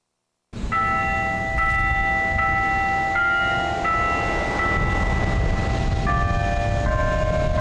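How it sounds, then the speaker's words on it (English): Denny Chimes at the University of Alabama ring out in sustained, overlapping bell tones that shift pitch every second or so, heard outdoors under a steady wash of broadband background noise. "Around 2 o'clock this afternoon, Denny chimes played in memory of Dr. Sorensen."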